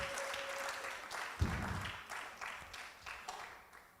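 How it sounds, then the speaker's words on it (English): Audience applause at a performing arts conference in a Kenyan national venue as a speaker walks on stage, a moderate, steady wash of clapping from a seated crowd with a brief louder burst partway through. "A round of applause as she comes on stage."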